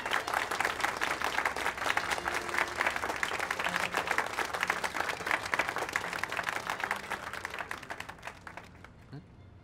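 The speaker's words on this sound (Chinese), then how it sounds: "掌声有请" Guests at a gala banquet's dance segment break into sustained applause, a dense, steady wash of many hands clapping that carries on for nearly ten seconds before tapering off at the end.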